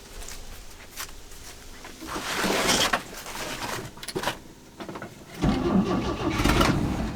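A long-neglected Chevy C10 engine that sat for decades cranks in uneven bursts, then catches and sputters into rough running, moderately close.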